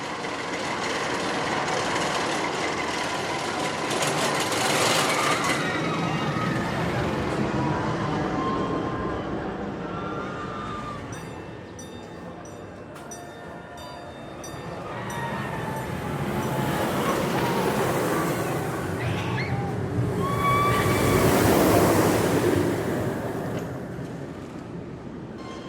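Steel Vengeance roller coaster train at Cedar Point rumbles along its track, a long roar that swells and fades twice with rattling and clacking, heard from a distance amid park ambience.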